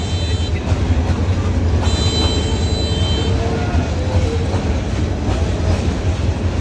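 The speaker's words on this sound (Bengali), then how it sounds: "ট্রেন যাচ্ছে" A train rolls past on the rails, loud and close, with a continuous heavy rumble and some faint squeal throughout.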